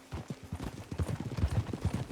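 Horse hooves clip-clopping at a steady riding gait in Red Dead Redemption 2, a quick rhythmic series of close, fairly loud hoofbeats with no talk.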